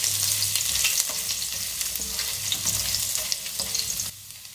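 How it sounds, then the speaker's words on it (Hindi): Julienned ginger fries in hot oil in a pan, giving a loud continuous sizzle with crackles and stirring scrapes that cut off abruptly near the end, and no speech. "फ्राई करेंगे इसकी,"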